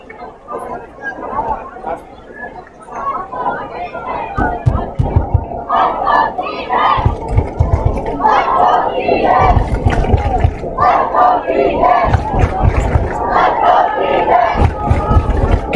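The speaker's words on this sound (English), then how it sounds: "It looks like the TJ crowd's really getting into it, starting some cheers down there." High school football crowd in the stands at a kickoff for Thomas Jefferson, loud sustained cheering, chanting and chatter with rhythmic yelled cheers building through the clip.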